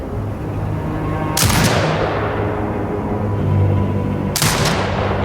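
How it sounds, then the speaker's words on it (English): Two heavy turret shots in Sniper Ghost Warrior Contracts 2, each a sharp blast followed by a long fading rumble, spaced about three seconds apart over a steady low background hum. "Exit binocular mode and command the turret to fire."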